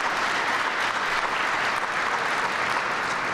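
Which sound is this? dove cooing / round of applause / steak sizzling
round of applause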